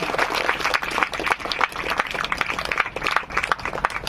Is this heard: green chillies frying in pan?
no